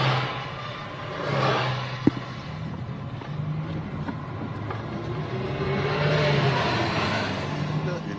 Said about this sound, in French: Une SM Maserati qui peut atteindre une vitesse de l'ordre de 240 à 260 km à l'heure.